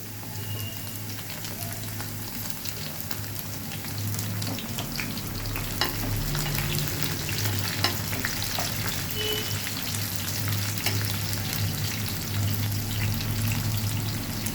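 Sliced onions and green chillies fry in hot oil in a pan for a tomato egg curry, giving a steady close sizzle with crackling pops and occasional stirring scrapes, no voices.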